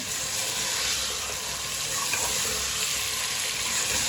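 Chopped pumpkin frying with chicken in a pot gives a loud, continuous, even sizzle up close, with a faint clink partway through and no talking.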